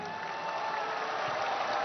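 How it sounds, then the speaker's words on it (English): A basketball arena crowd applauds as a player returns to the floor at a women's Olympic qualifying game, producing a steady, even wash of clapping throughout. "a round of applause as Li Mong comes back onto the floor"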